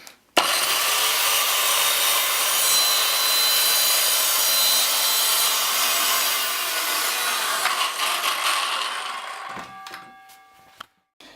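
An Evolution Fury 1B circular saw cuts through wood along a guide, a loud, close, continuous high whining rasp lasting about nine seconds, then spinning down and stopping.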